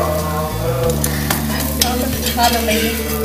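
A dosa cooks on a natural gas chulha stove, giving a steady close sizzle with scraping and stirring noises and a low tonal hum underneath, with no talking.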